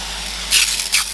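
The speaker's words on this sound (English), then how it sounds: "you just spray it down. There's a fine mist that soaks all the bedding." A handheld spray bottle mists water onto snake bedding in two quick, close, hissing bursts over steady background noise, with no talking.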